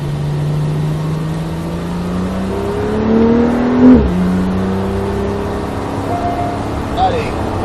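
A Porsche 911 Carrera S accelerates on the Nogaro circuit, its engine rising in pitch before a brief dip at a gear change and then climbing again, loud and close, with an instructor talking over it.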